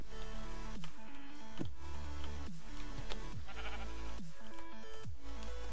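Minecraft sheep bleat repeatedly in short, wavering calls spaced about a second apart, clear and fairly close amid quiet game background.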